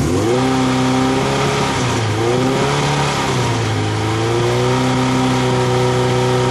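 A motorcycle engine, treated with Amsoil fuel additives and octane boost, is held at about 4,000 RPM, a loud continuous close-up drone that dips slightly and rises again with no talking.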